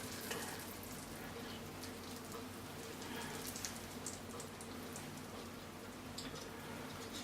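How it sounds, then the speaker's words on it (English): Hot fudge syrup with tea bags in it is strained, giving a steady soft crackling, sizzling wash of liquid with no talk. "I'm going to strain this so we don't end up with a big tea bag in the middle of a piece of fudge"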